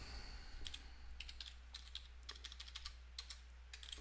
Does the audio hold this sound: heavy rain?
no